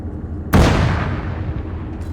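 A single loud, close rocket explosion in the Arma 3 battle game, a sharp blast that rolls into a long fading rumble.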